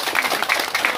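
Audience applauding a senator at a Haitian political gathering, a dense, steady wash of clapping that fills the whole short moment at close range.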